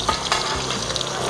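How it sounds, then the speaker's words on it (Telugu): Chopped onions frying in hot oil in a pan for a festival cooking meal, a loud, steady, close sizzle with faint stirring scrapes throughout. "ఇప్పుడు ఆయిల్ హీట్ ఎక్కింది, ఉల్లిపాయలు వేస్తుంది"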